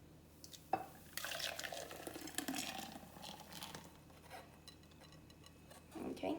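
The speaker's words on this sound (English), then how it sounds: "So we're going to take this and go ahead and pour it in." Crème brûlée batter poured into ramekins, a soft trickling, dripping liquid sound with faint splashes and clinks, quiet and close, starting after a brief pause.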